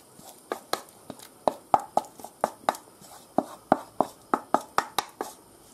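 Wooden spoon knocking and scraping against a pot while lentil stew with blood sausage is stirred, a steady run of a dozen or so close, crisp clacks at an even rhythm with no talking.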